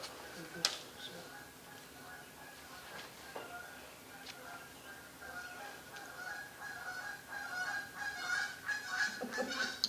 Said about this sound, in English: The geese are here.